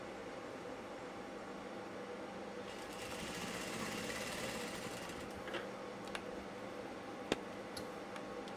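A sewing machine runs a double line of stitching on a blouse, a steady low hum with a louder stretch midway and a few sharp ticks near the end, quiet and continuous.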